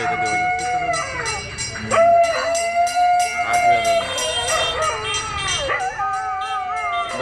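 Dogs howl during an aarti prayer ritual, several long wavering cries overlapping and rising and falling, fairly loud against a steady rhythmic ringing in the background.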